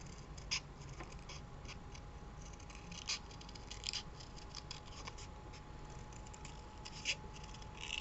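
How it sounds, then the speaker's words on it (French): Scissors snipping through paper to cut out a small round shape for a folded handmade card, a few crisp close cuts over a quiet steady room hum. "Maintenant que j'ai des ciseaux tout propres, je vais pouvoir utiliser ça."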